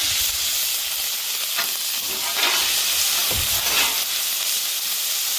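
Ground beef and bacon frying together in a pan, a loud steady sizzle and hiss with occasional scraping stirs as the meats are combined, no talking.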